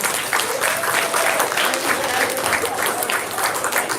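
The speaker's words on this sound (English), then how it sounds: "give everybody a round of applause" An elementary school audience claps after a heads-or-tails coin toss game, loud continuous applause filling the room with chatter mixed in.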